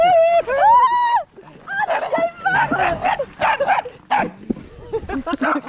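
A dog barks and yips in sharp bursts close by, first a few high whining yelps, then a rapid string of excited barks, with people talking and shouting over it.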